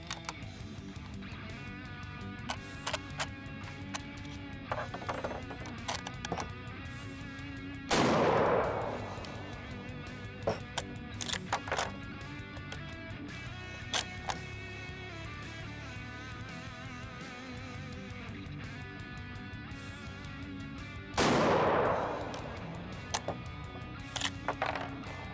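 Ethiopian Jungle Carbine No.5 Mk.1 military surplus rifle firing PPU ammunition at a range: two loud, booming shots about thirteen seconds apart, each with a short rolling echo, over a steady background hum.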